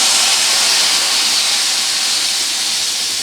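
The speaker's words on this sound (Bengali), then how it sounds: "এবার এখানে দিয়ে দিচ্ছি সামান্য একটু জল।" Water poured into hot spice paste in a pan while cooking a Bengali dried fish curry, giving a loud, steady steaming hiss that fills the whole moment without talk.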